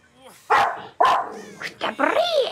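A dog barks sharply at something it treats as an intruder near the front entrance, with several loud, close barks in quick succession and a higher yelping call at the end.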